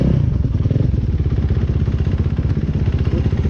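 A Yamaha TTR dirt bike engine idles loud and close with a steady rapid chugging pulse and some mechanical clatter, heard alone without talk.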